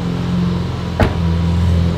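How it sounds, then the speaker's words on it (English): A straight-piped Lamborghini Aventador Roadster engine idles with a steady, close, low rumble, broken by a single brief click partway through. "This thing's straight pipe. It is loud."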